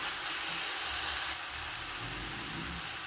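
Crushed shallots, ginger, garlic and green chilli sautéing in a pan for an Alappuzha-style fish curry, giving a steady soft sizzle and hiss close by, with faint low clatter underneath and no talk.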